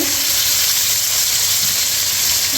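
Garlic, onion and tomato hit hot oil in a pan, giving a loud, steady sizzling hiss that runs unbroken from start to finish.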